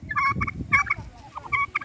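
Turkeys on a turkey farm gobble in repeated bright, warbling bursts, close and fairly loud, over a low rumbling farmyard background.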